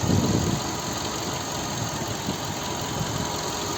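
A 2007 Skoda Octavia A5 with a 1.6 MPI BSE petrol engine idles close by, a steady even hum with a slightly louder start, alone without any talking.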